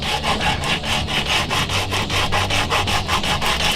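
Hand sanding of an AEB-L steel knife blade: a steady back-and-forth rasping stroke, roughly four strokes per second, close and even throughout, with no speech.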